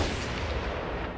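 Sustained gunfire as a sound effect in a horror story, guards firing follow-up shots, heard as a dense, continuous rumbling barrage of low booms with no clear separate reports.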